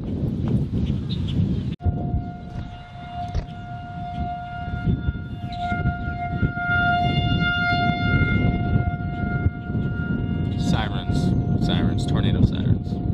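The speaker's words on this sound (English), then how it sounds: "Sirens, tornado sirens." Tornado warning sirens wail with steady sustained tones that rise and hold across the clip, mixed with background noise and occasional clatter, and a person talks intermittently over them.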